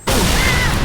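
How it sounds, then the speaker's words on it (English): Grenade blast in Halo 3, a sudden loud explosive burst that hits at once and rumbles on without fading for under a second, close by and with no voices. "Grenade!"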